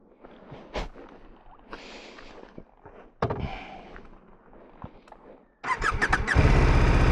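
Near the end, a dirt motorcycle engine suddenly roars and revs loudly and raggedly, after quieter rustling and shuffling sounds, during a river crossing.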